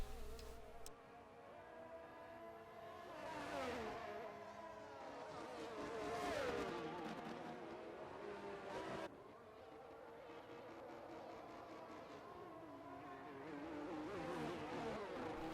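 Race cars in an Xbox racing game at the Australian Grand Prix whine past, engines rising and falling in pitch as they pass, with a sharp cut partway through, at moderate volume.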